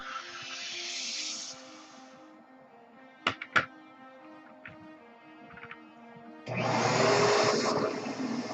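A vacuum cleaner whines loudly at first, cuts off into near quiet with a few sharp clicks and knocks, then roars back on with a broad, steady rushing hum.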